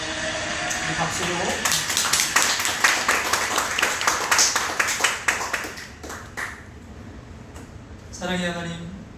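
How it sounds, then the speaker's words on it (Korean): A church congregation at a Sunday worship service claps together in a burst of sharp, rhythmic handclaps lasting several seconds, then fades as a voice begins. "박수로"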